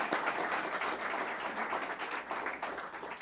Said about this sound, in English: Maybe we can give you a clap first.